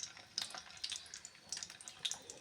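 Potato twister snack frying in hot oil, a faint crackling sizzle with irregular bursts of popping bubbles, heard alone without talk.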